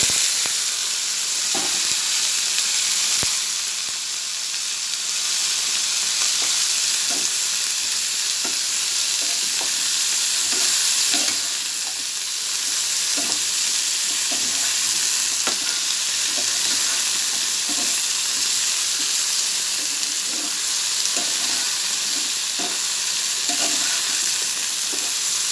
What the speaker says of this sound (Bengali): এবার কাটা ভেন্ডিগুলোকে ছেড়ে দেবো,